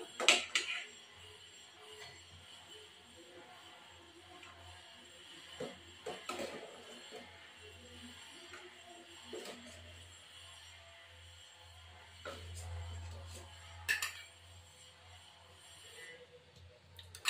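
Cutlery scraping and clinking against a plate while someone eats white cauliflower roast, with scattered soft taps and a few sharper chinks over a low, steady hum.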